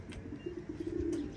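Fancy pigeons settling back onto a house rooftop, giving soft low cooing calls that repeat through the moment, close by and fairly quiet with no talk.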